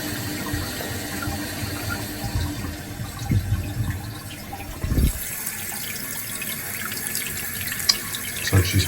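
Toilet tank refilling through thrift-store replacement parts, a steady close hiss and trickle of running water filling the tank continuously, with a few small knocks and clunks along the way.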